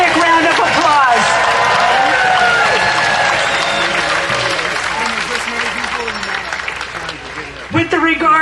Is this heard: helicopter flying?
no